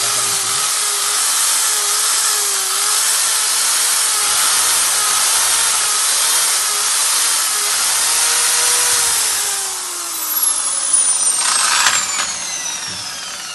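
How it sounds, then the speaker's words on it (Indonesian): Electric drill running on a household power circuit, a loud continuous whirring hum with a steady pitch that later slides and winds down, close to the microphone. "kita coba dengan memberikan noise dengan menggunakan bor listrik yang saya pasang di jaringan listrik yang sama"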